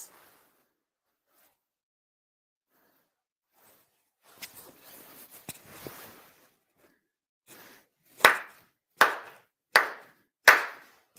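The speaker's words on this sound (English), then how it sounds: "4 sincere claps" At a Tenchi Kane no Kami Shinto grand ceremony, four sharp ritual hand claps ring out in an even, measured sequence after a quiet stretch with faint rustling and shuffling.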